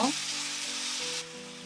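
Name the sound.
onions and potatoes sizzling as seasoning sauce is added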